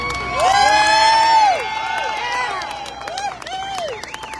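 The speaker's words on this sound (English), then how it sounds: "So how about a round of applause for Herschel and his family for putting up with all this crap?" Crowd at a political rally cheering and whistling loudly with scattered clapping, a rising and falling swell of shouts and sharp whistles that peaks early and then thins out.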